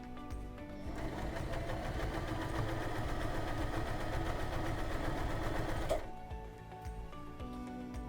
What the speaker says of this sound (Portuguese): eu vou ligar a máquina. E vamos fazer o teste? Costurar 8 camadas de jeans?